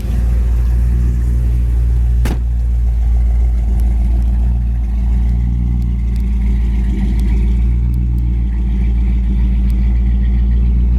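A 1964 Chevy Impala Super Sport's engine runs steadily close by, a loud, deep, continuous rumble with a brief sharp click early on and no one talking.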